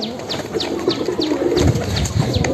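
Pigeons in a loft give low, close, repeated cooing calls, with light chirps and rustling among the birds throughout.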